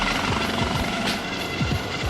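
A hovering U.S. Coast Guard rescue helicopter roars close overhead, its loud, steady rotor thump and turbine whine filling the air with rhythmic low beats and a broad hiss of downwash.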